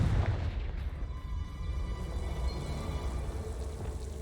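A Confringo spell blast in Hogwarts Legacy lands as a broad rumbling boom at the start, then decays into a sustained noisy roar and crackling rumble that fades slowly, with no talk.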